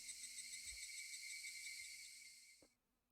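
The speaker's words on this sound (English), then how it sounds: "I want you guys to hear the freaking cicadas" Cicadas droning in Higurashi: When They Cry, a steady, faint, high buzzing chorus with a pulsing texture that carries on alone, then cuts off abruptly near the end.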